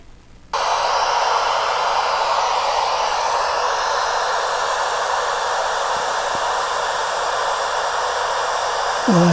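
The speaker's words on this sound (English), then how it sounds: "white noise here" Steady broadband white noise plays from a loudspeaker, starting abruptly after a brief quiet moment and holding at an even, loud level to the end.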